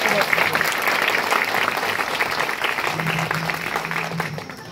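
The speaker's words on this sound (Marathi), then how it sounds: "खरं तर तुम्ही टाळ्या सुद्धा खूप छान वाजवता।" An audience applauds at a Dr. Babasaheb Ambedkar Jayanti gathering in Karegaon, Parbhani. Dense, continuous clapping fills the stretch, slowly thinning at the end, with faint voices mixed in beneath it.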